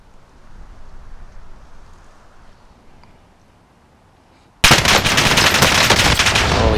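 Call of Duty Warzone match: quiet wind-like ambience, then a sudden loud burst of rapid automatic gunfire that keeps going to the end, close and harsh.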